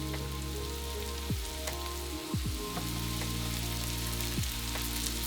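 Green beans sizzle in a hot pan over medium-high heat with salt and pepper, a steady crackling fry throughout with a few soft clinks and scrapes, and no talking.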